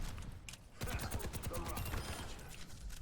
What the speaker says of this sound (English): I'm shooting my rocket.